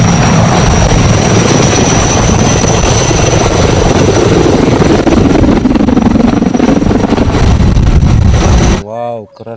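A toy helicopter gives a loud, close, continuous whirring drone that holds steady for about nine seconds, then cuts off abruptly as a voice briefly speaks.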